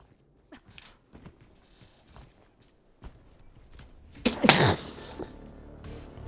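A single loud sneeze bursts out close to the microphone, breaking through quiet background clicks and faint mechanical noises during an Overwatch gaming session.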